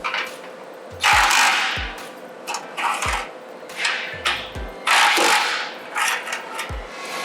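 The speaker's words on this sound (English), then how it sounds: "Starting out with a 16mm socket, loosen these 2 clamps completely." Ratchet and socket work on the exhaust clamps of a BMW G8X M3/M4, a 16mm socket loosening clamps: a series of close metallic clicks and clanks in separate bursts, with sharp low knocks between them.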